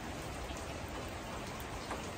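Steady rain falls outside on a rainy day, a soft even hiss of drops on surfaces with no talk.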